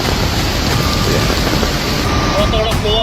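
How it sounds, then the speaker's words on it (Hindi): Loud, steady downpour roaring without a break, dense and close, during heavy monsoon rain in Uttarakhand, with a faint tonal whine appearing briefly near the end. "लगातार भारी बारिश हो रही है।"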